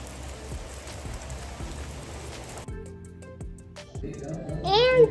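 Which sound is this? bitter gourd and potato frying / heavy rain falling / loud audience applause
heavy rain falling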